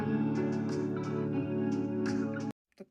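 A guitar-and-drums cover plays the verse of a song, a dense, sustained mix with a steady beat that stops abruptly near the end. A few faint clicks follow.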